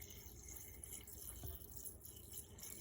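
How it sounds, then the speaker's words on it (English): Vegetable stock is poured over dried beans in a kitchen, giving a faint, steady trickle and splash of liquid that runs continuously at low level. "I have some vegetable stock here, and I'm just going to pour it over the top of the beans."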